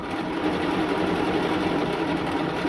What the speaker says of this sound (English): As you're sewing, stop every once in a while.